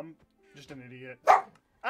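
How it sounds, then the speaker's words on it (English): A dog gives one short, loud bark close by in a room. It comes right after a man's speech and is followed by his startled exclamation. "If anyone heard that, that was my dog."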